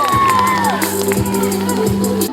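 Student pageant audience at a university Mister contest cheers loudly and shouts after an award announcement, a dense close crowd roar with whoops rising over it.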